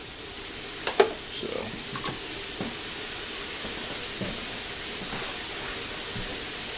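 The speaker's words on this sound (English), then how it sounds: "take that steam off" Rinsed ground beef sizzles and hisses steadily in a pan as the rinse water boils off as steam, a broad continuous frying hiss with a few clicks and stirring knocks, with a brief word spoken early.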